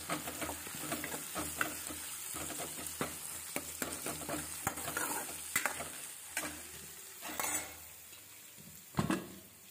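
Chopped onion sizzles in butter and oil in a pan for dal, a steady hiss broken by sharp clinks and scrapes of stirring, with no voices.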